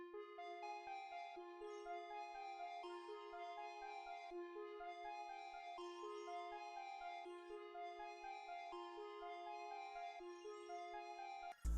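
Dark trap loop built in FL Studio with chorus, an ARP-O-Matic arpeggiator preset and half time, a steady looping melodic pattern with soft repeating plucked notes, quiet and without voices.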